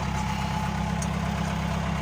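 A John Deere 2140 tractor engine runs steadily at a low, even rumble with a regular throb, close and constant throughout with no voices.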